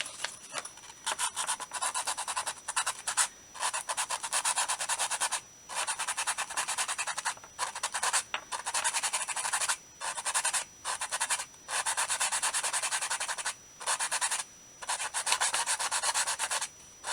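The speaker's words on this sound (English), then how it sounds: "I do want to sand this off." A vintage miniature is sanded by hand in long, steady rasping strokes, close and even, broken by short pauses between passes.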